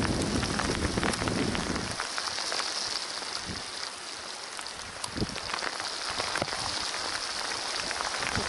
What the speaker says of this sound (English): I don't like that thunder at all.